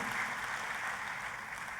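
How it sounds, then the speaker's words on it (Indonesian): Church congregation applauding during a worship service, a steady wash of many hands clapping that fills the short moment at moderate, even loudness. "Tepuk tangannya yang paling meriah buat Tuhan kita."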